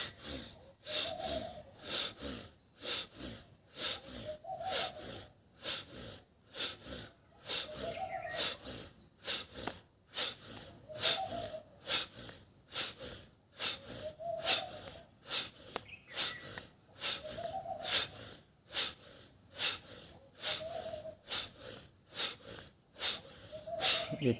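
Deep breathing during a yoga exercise: a regular rhythm of loud, breathy inhale-exhale cycles about every two seconds, close up, with airy, snort-like rushes repeating for the whole stretch.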